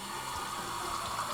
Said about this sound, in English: we have some running water, hot and cold running water